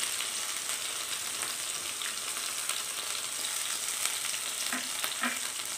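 Soaked moong dal added with a little water to a red chilli tempering in hot oil, sizzling and frying steadily and close up throughout.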